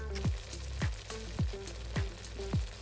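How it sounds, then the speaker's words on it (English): A chickpea curry seasoned with black pepper and salt is stirred in a sizzling pan, the spoon scraping the pan in a steady rhythm of about two strokes a second over a constant fry. "Stir this around and add some freshly ground black pepper and salt."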